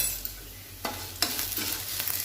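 Yogurt and gram flour batter stirred in a hot pan for dahi kadhi, a steady low sizzle with a few sharp scraping strokes of the spoon against the pan, close and alone.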